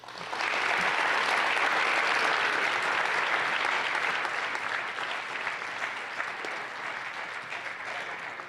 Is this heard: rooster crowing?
no